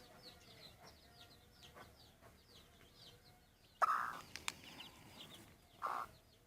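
Soft scratching and quiet chirping of small chicks scratching soil outdoors, with a broody mother hen's clucks breaking in louder a few times near the end.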